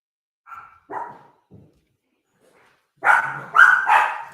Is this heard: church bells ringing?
no